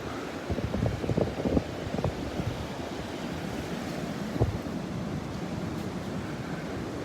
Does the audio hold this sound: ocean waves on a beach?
yes